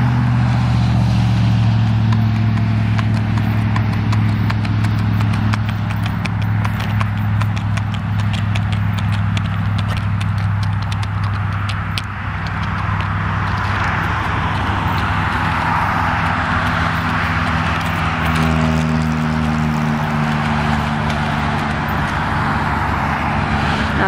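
Horse hooves clip-clop steadily at a walk on a hard surface, close and continuous, with a low engine rumble of passing traffic and a truck running underneath.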